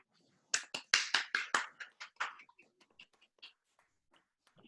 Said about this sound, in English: Let us welcome our new members by a round of applause